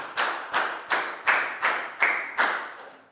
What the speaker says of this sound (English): High five and big round of applause for Nadia.